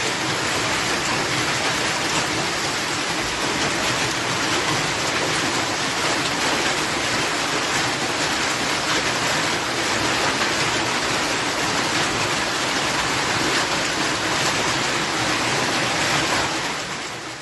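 A hailstorm in Gavar, Armenia pounds down in a dense, unbroken roar of drumming impacts that stays loud and steady for the whole stretch, with no voices.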